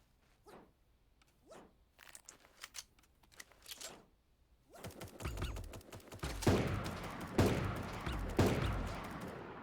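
Video game gunfire, starting as scattered single shots and short bursts, then building into dense rapid volleys that grow louder and more continuous toward the end, with no talking.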